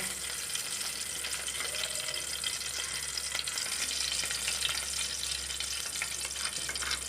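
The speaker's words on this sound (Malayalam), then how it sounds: "അതിലേക്ക് ആവശ്യമായ നെയ്യ് ഇട്ട് കൊടുക്കാം" Ghee sizzles steadily in a hot pan while carrot halva is prepared, a continuous soft crackle at low level with no voices.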